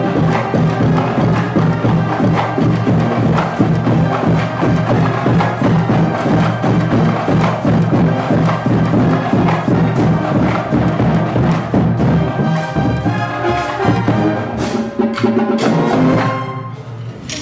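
A marching band of more than a hundred uniformed players performs at a Mocs college football game, with loud, continuous brass and percussion playing that holds steady throughout and fades slightly at the end.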